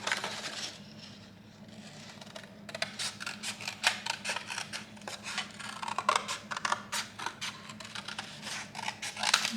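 Scissors snip through a piece of card in close, irregular cuts, crisp crunching strokes coming thick and fast after a quiet start, with no voices over them.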